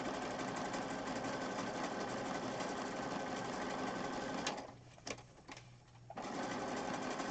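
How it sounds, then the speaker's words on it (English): Sewing machine stitching down the edge of a piece of fabric onto a mixed media page, a loud, steady close-up motor whir that briefly slows and stutters before running on continuously. "So I'm just going to sew down the edge here."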